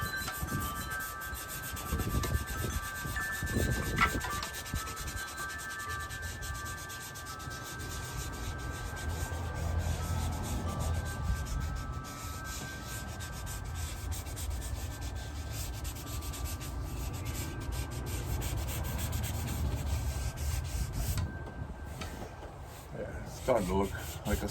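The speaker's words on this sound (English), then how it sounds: "This is a insulation for a pipe, like PVC pipe. So rub some of that blue" Soft pastel rubbed onto paper with a piece of blue foam pipe insulation to blend a sky, giving a continuous soft scraping and rubbing that runs steadily throughout at moderate level.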